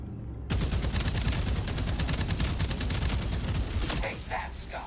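Pilot cannons and disruptor lasers fire in a space combat game, a dense, loud stream of rapid rattling shots that starts abruptly and runs continuously before tailing off near the end.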